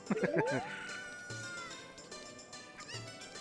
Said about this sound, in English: And this girl here is just playing with the chicken.